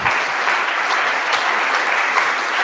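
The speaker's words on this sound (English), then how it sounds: "Give him a round of applause." Audience applause after a talk on Nix, a loud, dense and sustained round of clapping that stays even throughout with no speech over it.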